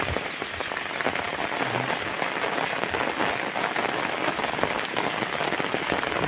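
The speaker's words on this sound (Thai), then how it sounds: "ฝนตกทุกวันเป็นประจำเลยนะครับฝนตกมากเลย" Heavy afternoon rain pouring down steadily, a dense continuous hiss of drops drumming on surfaces close by, with no talking over it.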